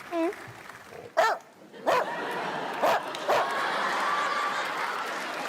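A child imitates a dog with a handful of short yappy barks spaced apart, followed by a murmur of audience reaction in the background.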